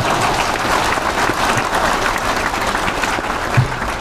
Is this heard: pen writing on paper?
no